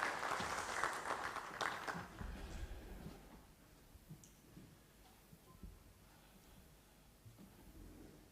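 A short round of applause from an audience at a talk, quite faint and distant, lasting about two seconds before fading into quiet room noise with a few scattered claps.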